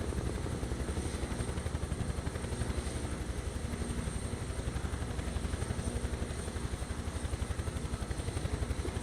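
A Bell UH-1 Huey helicopter in Microsoft Flight Simulator 2024 drones with a steady, rapid rotor thump and engine whine, loud and continuous throughout with no talking.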